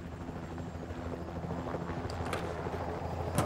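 A helicopter in the skateboarding video game Tony Hawk's Pro Skater gives a steady, close rotor drone, with a brief higher swish partway through.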